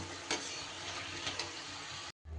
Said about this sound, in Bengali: এবার পরেরগুলো আবারও তেলে একই রকমভাবে ছেড়ে দেবো